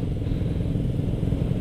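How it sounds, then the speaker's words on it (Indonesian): Motorcycle engines rumble steadily at close range as motorcycles ride along a city sidewalk, a dense, continuous low drone of engines and traffic with no talking. "Tuh cuy, banyak banget motor yang melewati trotoar."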